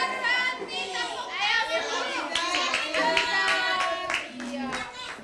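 Schoolchildren in a classroom clap their hands together in a fairly steady rhythm, with lively kids' voices and chatter running over the claps throughout.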